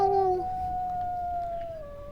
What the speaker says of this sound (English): Let's howl